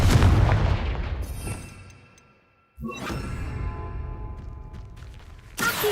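A Confringo fire spell explodes in the Hogwarts Legacy video game, giving a heavy boom that fades out, then a second sharp blast with a whooshing tail, and another burst right at the end.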